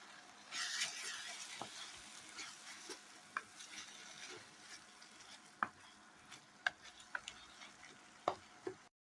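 Whole spices including green cardamom fry lightly in a pan for Kashmiri-style tomato chutney, giving a faint, quiet sizzle with occasional soft spoon scrapes and ticks scattered across the clip.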